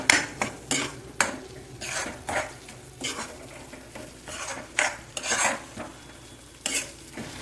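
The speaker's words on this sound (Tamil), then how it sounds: "மசாலாவுக்கும் பலாக்கொட்டைக்கு சேர்த்து 2 பெருட்டி விட்டு பலாக்கொட்டையை இதிலே போட்டுருவேன்" Jackfruit seeds are stirred into masala in a pan, producing repeated close spoon scrapes and clinks in an uneven rhythm over a light, steady sizzle, with no voices.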